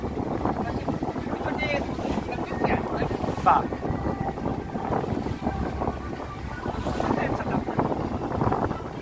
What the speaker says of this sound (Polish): tutaj motoróweczka leci sobie i też ma fale